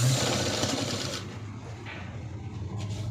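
A sewing machine runs steadily at close range as it stitches a blouse, giving a continuous, fast mechanical whir for a few seconds that eases slightly near the end.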